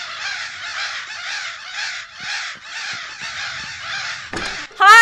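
Crows caw loudly in the horror video game Remothered: Broken Porcelain, a rapid run of harsh repeated caws close by, then a sharp clatter and squeal at the end.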